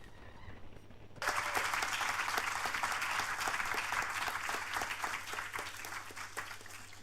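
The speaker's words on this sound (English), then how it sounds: "I do believe a round of applause is in order for Dr. Hubmer-Mogg." Applause from an audience in a full European Parliament event room, a dense steady clatter of many hands that breaks out suddenly after a quiet moment and carries on for several seconds.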